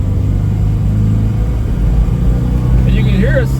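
A 1984 Datsun/Nissan 720 King Cab 4x4 truck cruises on a highway, its engine a steady low rumble with road drone filling the cab while someone talks over it.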